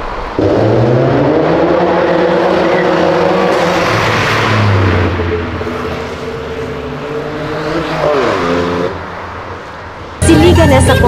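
A Porsche pulls away with a loud engine note that climbs in pitch through several gear changes, then eases off as it moves away, ending in a harsh noisy burst.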